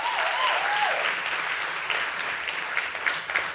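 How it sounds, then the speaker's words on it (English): Loud, close audience applause after a performance in a singing competition show, sustained clapping with a brief whistle-like tone near the start and a few sharper claps toward the end. "Round of applause"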